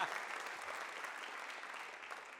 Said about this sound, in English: A round of applause for all the finalists.